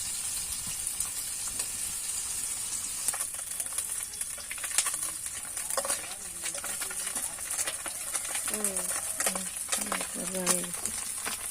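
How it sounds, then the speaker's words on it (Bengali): Pabda fish frying in hot oil, a soft steady sizzle with scattered crackles and spatters, fairly faint, with a voice murmuring in the background at moments. "এই যে আমাদের মাছ ভাজা হয়ে গেছে। পাবদা মাছ, পাবদা মাছ।"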